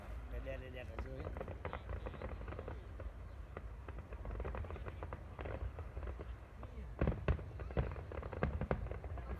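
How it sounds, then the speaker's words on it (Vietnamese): Summer fireworks display in Korea, with dense crackling bursts and popping explosions going on continuously, sharper louder bangs near the end, and people talking in the crowd throughout. "Pháo hoa ở đây như cháy cả kho ra."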